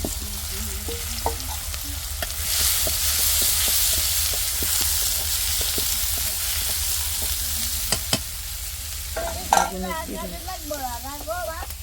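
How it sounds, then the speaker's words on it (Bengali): Onions fry in hot oil with a loud, continuous crackling sizzle, a few sharp knocks partway through, and voices speaking near the end. "এখানে হলো তেল গরম দিতে দিয়ে দিয়েছি এখন পেঁয়াজটা দিয়ে দেবো"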